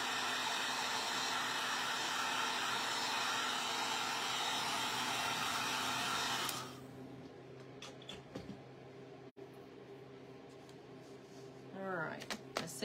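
A hair dryer blows on wet paint on a spindle snowman craft, a loud steady whir that runs for about six seconds and then cuts off, followed by quiet handling clicks and rustles nearby.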